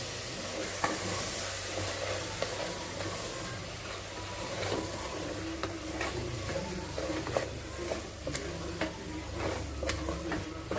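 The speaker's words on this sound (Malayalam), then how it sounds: "ഒന്നുകൂടി ഇളക്കാം" A spoon stirs spice masala with turmeric powder in a pan for a rice bath, soft scraping and light sizzling with small ticking taps throughout, steady and close, with no voices.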